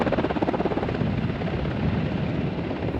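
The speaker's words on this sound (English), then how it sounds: "the helicopter the teachers flew in" A helicopter carrying teachers in Montana thunders close by, its dense rotor chop pulsing steadily and loudly for the whole stretch with no voices.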